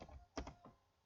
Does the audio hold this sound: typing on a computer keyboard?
yes